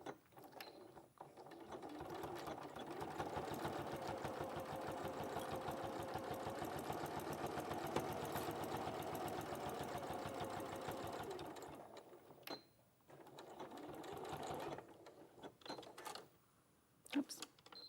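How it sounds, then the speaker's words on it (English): Sewing machine stitching down the centre of quilting fabric, a steady rapid mechanical whir with clicking needle strokes for about twelve seconds, then short bursts with pauses and faint talk nearby. "we're just going to sew down the centre of it"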